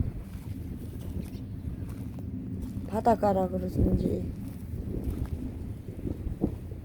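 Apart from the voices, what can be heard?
strong seaside wind blowing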